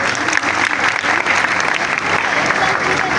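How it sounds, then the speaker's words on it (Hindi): An audience at a Next.js web design class gives loud, sustained applause, an even wash of many hands clapping for about three seconds with no break. "ज़रा अपने लिए ज़ोरदार तालियां।"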